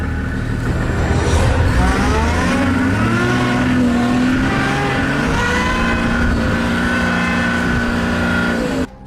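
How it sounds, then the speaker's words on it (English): A safari vehicle floored in reverse to escape a charging elephant, its engine roaring loud and steady at high revs throughout, strained and continuous until it cuts off at the end. "He floors it in reverse and gets away from the animal."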